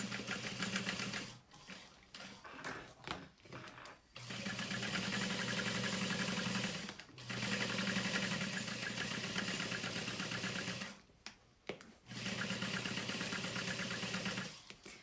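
Sewing machine stitching along the outer edge of a fabric saddle bag, basting the layers in place: steady mechanical whirring in several runs of a few seconds each, broken by short pauses.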